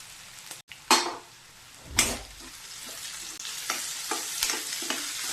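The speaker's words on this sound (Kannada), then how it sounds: "ಅದಕ್ಕೇ ಈಗ ಎಣ್ಣೆಯಲ್ಲೇ ಕರೆಕ್ಟಾಗಿ ಇದನ್ನು ಫ್ರೈ ಮಾಡ್ಕೋಬೇಕು." Vegetables frying in oil with salt in a pan for upma, a close sizzle broken by several distinct scrapes and knocks of a spatula stirring, no talking.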